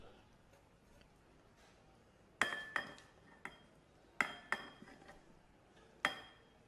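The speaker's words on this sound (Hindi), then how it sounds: "अब एक बड़े साइज़ का बर्तन ले लेंगे और उसके अंदर इसको ट्रांसफ़र करेंगे।" Food is transferred into a large cooking pot. About six sharp metallic clinks and knocks ring out at uneven intervals over a quiet kitchen background.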